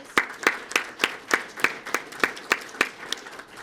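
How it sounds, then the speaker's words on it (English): Applause at a police swearing-in ceremony in Sarasota, heard as about a dozen evenly spaced sharp claps in a steady rhythm, fairly close and alone. "You give him a round of applause."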